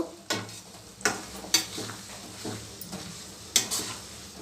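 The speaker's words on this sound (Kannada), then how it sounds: "ನಾವು ಕೊಬ್ಬರಿ ಎಣ್ಣೆ ಮತ್ತು ಹರಳೆಣ್ಣೆ ಸೇರಿಸಿ ಕಾಯಿಸೋದ್ರಿಂದ ಅದು ಈ ರೀತಿ ಉಕ್ಕುತ್ತೆ" Coconut oil and castor oil, with aloe vera gel added, heat in a pan over a low flame, crackling and sputtering with scattered sharp pops over a soft bubbling hiss.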